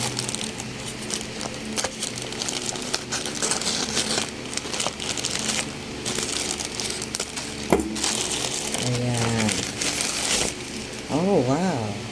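Plastic parcel packaging crinkling and rustling as it is torn open, close and fairly continuous, with someone talking intermittently over the handling noise.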